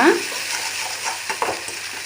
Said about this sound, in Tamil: இந்த ஸ்டேஜில் நான் வந்து ஹாஃப் தக்காளி அப்படியே ஆட் பண்ணிக்கிறேன் ஆட் பண்ணிவிட்டு நம்ம நல்லா மிக்ஸ் பண்ணலாங்க